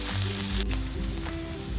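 Onion drops into hot oil already crackling with cumin and mustard seeds, and a close, moderate sizzle follows with a few soft clinks along the way.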